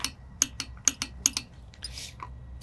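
A RYOBI ONE+ torque wrench gives a series of sharp, distinct clicks a few tenths of a second apart, close and fairly quiet, followed by some faint rustling.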